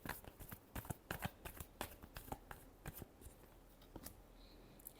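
Tarot cards are shuffled by hand in a quiet room, giving a series of crisp, irregular slaps and riffles, close and faint, with no voices over them.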